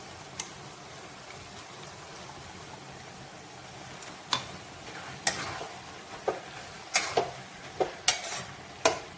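Ginger, tomato and green chili being stirred into a bottle gourd and moong dal curry, with scattered sharp clinks and scrapes of a spoon against the pan over a faint sizzle, growing more frequent toward the end.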